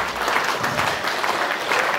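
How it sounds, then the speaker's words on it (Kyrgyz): An audience at a feast applauds the hosts with dense, sustained clapping that fills the room at a steady loud level from start to end. "той ээлерине деп катуураак кол чаап алалычы"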